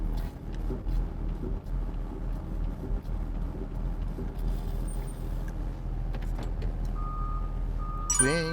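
A 2019 Doosan DX210W-5 wheeled excavator on a test drive, its engine rumbling steadily up close with a brief run of electronic reversing beeps near the end.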